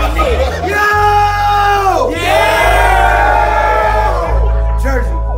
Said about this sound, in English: So everybody make some noise for that.